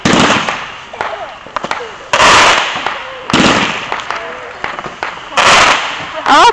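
Loud firework cannon shots in a fireworks finale: sharp booming bursts with crackling tails, about five big blasts spaced irregularly, with onlookers talking between them.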